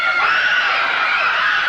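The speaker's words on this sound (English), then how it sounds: "Crowd yelling something to the referee about Landell." A crowd at a 1989 Memphis professional wrestling event yells and screams together in a sustained, loud, high-pitched roar, with no single voice standing out.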